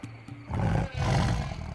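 A tiger in the video game Lost Horizon lets out a loud, close, rumbling roar that swells twice over less than two seconds, with no talk over it.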